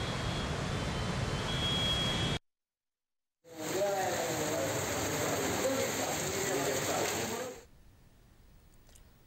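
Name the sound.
heavy rain falling in Hyderabad city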